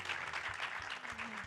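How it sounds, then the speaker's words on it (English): An audience at a documentary panel event applauds a director, with a full, even burst of many people clapping that carries steadily for a moment. "Applause for Michael Blevins."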